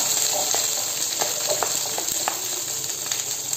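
Onions frying in a pan for a quick eggplant and vegetable dinner give a steady, close hiss with small crackles scattered through it, and no voices over it.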